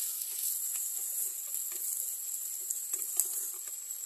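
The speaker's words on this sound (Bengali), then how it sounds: "পেঁয়াজটা ভালো করে ভাজা ভাজা করে নেব।" Onions frying in a pan in a home kitchen, a faint high sizzle with scattered small pops and crackles, heard alone without voices.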